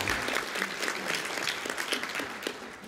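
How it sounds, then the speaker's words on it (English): An audience at the opening remarks of the AMED 2018 event claps steadily throughout, a dense, sustained round of applause that holds fairly even in loudness and fades slightly at the end. "That applause is for you."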